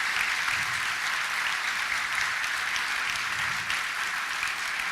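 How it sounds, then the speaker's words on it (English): Steady, dense applause from a large audience honoring the Palau family at an event with Luis Palau and Sam Adams, continuous and fairly loud without any speech. "could we have another round of applause for the Palaus?"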